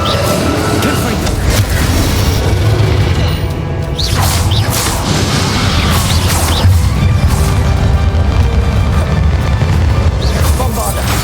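Confringo fire spells and other magic explode in a Hogwarts Legacy final boss fight against Ranrock, loud repeated booms and crashes layered over a dense, continuous battle din with a voice calling out.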